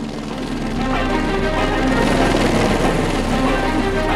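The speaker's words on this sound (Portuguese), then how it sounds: "um helicóptero da PM sobrevoava o batalhão de choque" A military police helicopter flying over a riot squad battalion produces a steady, dense rotor and engine rumble that swells slightly and holds, loud and continuous with no talk.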